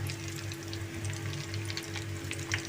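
Coconut corn sticks (kokoro snack) frying in hot oil give off a steady crackling sizzle with dense, irregular pops, close and continuous throughout, with no voices.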